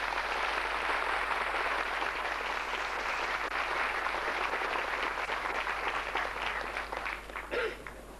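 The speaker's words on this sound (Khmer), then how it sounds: "សូមអង្គពិធីទាំងមូលអបអរសាទរ" An audience at a Cambodian cultural ceremony breaks into sustained applause, a dense, steady wash of many hands clapping that continues throughout and thins slightly toward the end.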